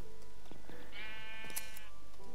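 A single bleat from a Minecraft sheep, clear and wavering, rises for about a second over a steady background hum, with a few faint clicks around it.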